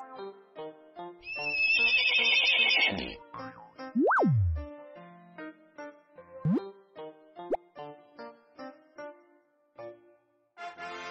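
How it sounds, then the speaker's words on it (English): A toy horse from a surprise egg whinnies loudly in a long, wavering neigh, followed by playful boings, plops and clopping sound effects in a cartoonish sequence. "Horse."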